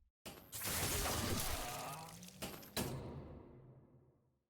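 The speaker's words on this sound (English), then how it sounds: "Don't tell me he's breaking through the glass!" Glass shatters in the video game Limbus Company: a loud crash is followed by two more sharp breaking bursts, each trailing off into scattered tinkling debris that fades to silence.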